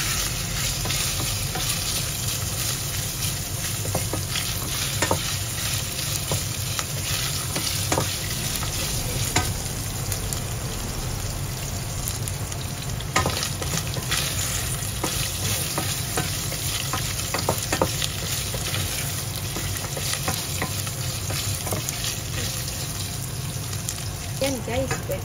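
Meat sautés in a pan for a bamboo shoot adobo, a steady close sizzle with frequent scrapes and stirring clicks running throughout, and a voice talking at times over the cooking.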